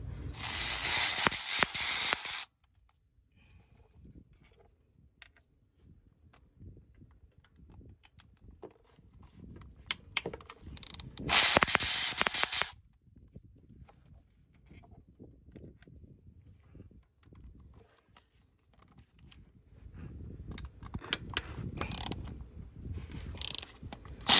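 A ratchet wrench loosens 10mm bolts on a Honda engine's variable valve timing solenoid, giving close, rapid clicking bursts in several runs separated by quieter handling noises, with no talking.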